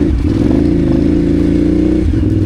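Adventure motorcycle engine droning steadily and loud while the rider works the throttle in snow, a rumbling mid-pitched tone with clattering grit as the rear wheel slips and slides in a rut, passing a side-by-side.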